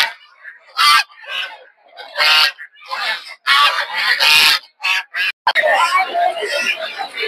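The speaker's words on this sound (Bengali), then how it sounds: "এগুলো প্রচুর পরিমাণে দেখতে পাচ্ছেন রাজা হাঁস," Large domestic ducks at a busy poultry market give loud, harsh honks in repeated bursts, close by and mixed with people talking among the stalls.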